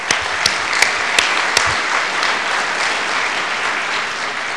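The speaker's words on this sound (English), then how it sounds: "Let's give them a big round of applause." Audience at a San Francisco civic launch event applauds the sponsors with a steady, dense round of clapping, a few sharp individual claps standing out near the start, sustained at even loudness throughout.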